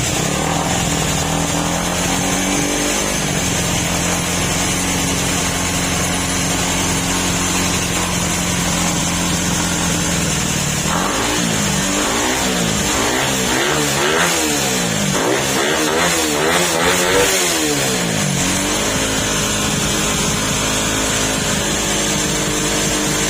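Honda RS150 motorcycle engine, recently brought back from a no-start condition, idling steadily, then revved in a quick series of rising and falling bursts before settling back to idle, close and loud with no talk.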